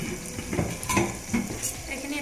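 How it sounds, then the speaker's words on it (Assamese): Spices being stirred into a pressure cooker pot while making egg biryani, with a spoon scraping and clinking against metal in short bursts over a soft sizzle, close and fairly quiet. "এইখিনি এতিয়া ভালদৰে মই লৰাই ল'ম।"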